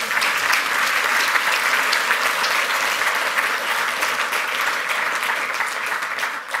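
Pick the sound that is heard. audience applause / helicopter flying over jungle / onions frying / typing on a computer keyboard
audience applause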